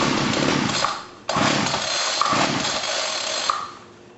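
A small two-stroke weed whacker engine running on hydrogen gas fed by hose from a plugged-in fuel cell gives a loud, steady buzzing drone, dipping briefly once before picking back up and fading toward the end.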